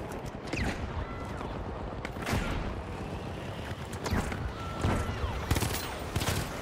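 A turret fires in a video game in repeated bursts of sharp shots with mechanical clatter, mixed with battle noise. The volume stays fairly steady throughout.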